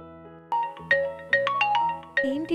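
A mobile phone rings for an incoming call, playing a bright melodic ringtone with rising tonal notes, loud and close, with no one speaking over it.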